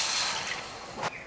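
Water poured onto sugar in a pan to make syrup for an apple cake, a short splashing, hissing gush close by that ends in a small splash.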